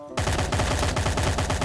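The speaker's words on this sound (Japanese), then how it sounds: "下で超銃声させてるやついる" Gunfire in the battle royale game Knives Out (荒野行動): a loud, close, rapid burst of automatic shots that keeps going without a pause after a brief quiet start.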